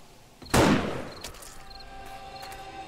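A single loud, sharp gunshot in the game 7 Days to Die cracks close by and decays over about half a second, followed by faint clicks and a steady background hum.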